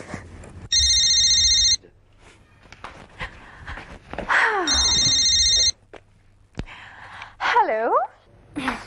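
A telephone rings twice in electronic bursts about a second long. Brief vocal sounds and gasps fall between and after the rings.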